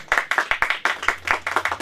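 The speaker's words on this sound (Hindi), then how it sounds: "तो एक बार अमित अल्प के लिए पुनः जोरदार तालियां बजाएं" A short burst of enthusiastic clapping for a performer at a Hindi poetry competition, sharp close hand claps in a quick, slightly irregular rhythm.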